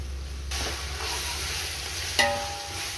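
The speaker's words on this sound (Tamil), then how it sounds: "அது கொஞ்சம் லைட்டாக வதக்கிக்கலாம்." Ginger garlic paste sautéing for chicken biryani gives a loud, even sizzle that swells after the first half second and holds steady, with a brief clatter near the end.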